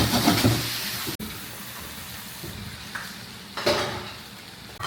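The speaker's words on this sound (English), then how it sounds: "Now we're gonna stir it up." Chicken chowmein with chickpeas and sauce being stirred in a frying pan, with soft sizzling and occasional scraping clinks of a utensil against the pan, fairly quiet and close.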